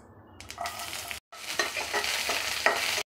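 Onions frying with mustard seeds in oil, a close, crackling sizzle with stirring scrapes, broken by a short silent gap and then continuing steadily.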